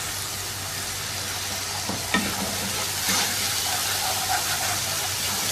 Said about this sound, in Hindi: 2-3 मिनट इसको सौते करेंगे।